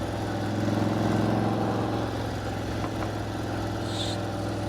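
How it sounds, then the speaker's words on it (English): A motorcycle engine hums steadily while riding on a road between gears, a close continuous low drone with little change in pitch and no talk. "I hate being in between gears where my bike don't like to be."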